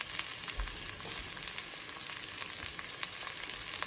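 Potatoes browning in a hot pan alongside a pork roast give a steady, close sizzle and crackle that holds evenly throughout, with faint stirring scrapes and no talking.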